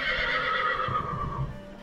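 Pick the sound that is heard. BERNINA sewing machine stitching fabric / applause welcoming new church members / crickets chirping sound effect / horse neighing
horse neighing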